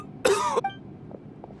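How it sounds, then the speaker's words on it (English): A man in a story scene gives a single harsh, loud cough of about a third of a second, followed by a faint catch of breath and quiet background. "Why is he coughing so much?"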